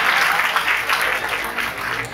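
An audience applauds after a recited couplet in a satirical play, a dense, fairly loud burst of many hands clapping that continues throughout.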